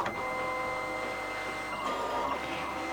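A Siser Juliet cutting machine runs with pressure at 13 and speed at 9, giving a steady, fairly quiet mechanical whir with tonal motor hum throughout, close by and without speech.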